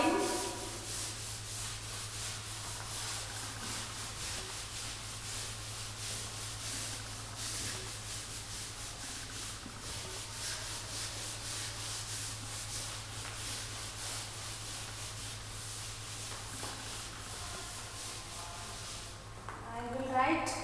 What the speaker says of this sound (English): I am rubbing.